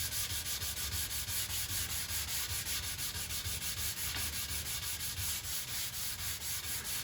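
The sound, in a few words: hand sanding wooden picture frame with sandpaper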